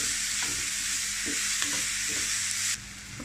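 Sliced banana with cashews and raisins sizzles steadily in ghee in a pan while a spoon stirs it, giving soft scraping strokes over the constant frying hiss, close and without talk.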